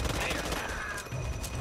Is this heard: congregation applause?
no